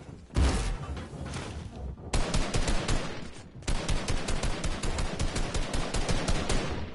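Rapid bursts of automatic gunfire from a John Wick mode in a video game, loud and dense, with two brief pauses between long volleys.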